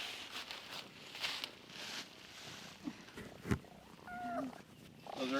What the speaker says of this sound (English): Look at our weird cat.